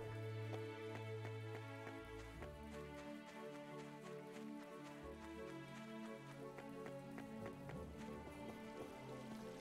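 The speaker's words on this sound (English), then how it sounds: "It was the first time it's rained." Rain falls in the video game My Time at Portia, a faint steady patter of drops running throughout, mixed with soft tonal game music.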